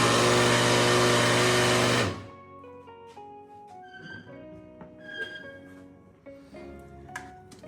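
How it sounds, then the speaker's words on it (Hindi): A kitchen grinder blends mango pieces with sugar in a loud, dense whir for about two seconds, then cuts off abruptly, leaving quieter clinks and handling sounds. "ये डाल के फिर हम इसे ग्राइंड कर लेते हैं।"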